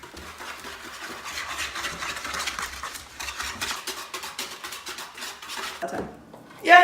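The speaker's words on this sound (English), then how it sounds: "And whisk" A whisk beats baking ingredients in a bowl, a steady rapid scratching and tapping rhythm that runs for several seconds before stopping, ending with a brief bright clink.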